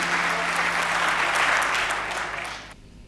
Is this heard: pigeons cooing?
no